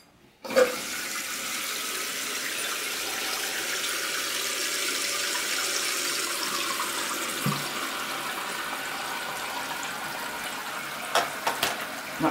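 Water rushes steadily into a toilet tank after the supply is turned back on during a running-toilet repair with a Korky kit, a continuous hiss of filling that holds for the whole stretch, with a few small clicks near the end.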